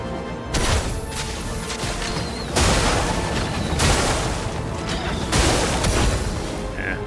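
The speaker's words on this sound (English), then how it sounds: "I'm gonna do Sakapatat Explosion," Video game Expedition 33 plays a skill attack as a series of heavy booming explosion bursts, loud and close, arriving in several surging waves with brief lulls between them.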